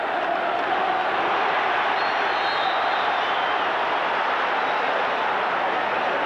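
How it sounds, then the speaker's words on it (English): A packed football stadium crowd at a 1996 Manchester United versus Sunderland cup match roars in a continuous, dense wall of noise, loud and sustained throughout, appealing for a foul. "Crowd calling for a foul, but I think it's only a throw."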